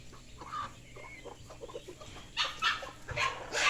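Chickens at a poultry yard cluck in short bursts, with some louder, sharper squawks near the end. They sound fairly close over a steady low background.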